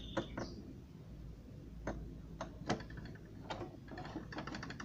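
A Brother BM 3700 sewing machine runs a straight stitch in short, faint bursts of quick ticking clatter, starting and stopping with quiet gaps between.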